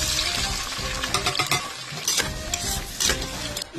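Onion fries in ghee and oil, a steady loud sizzle and crackle filling the pan while a utensil stirs and scrapes in occasional close bursts.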